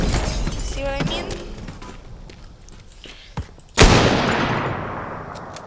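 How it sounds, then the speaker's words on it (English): Gunshot in the game Teardown shattering a target, a sharp loud crack followed by a long crumbling, debris-scattering rush after a brief faint thump. "I'm gonna shoot all these down."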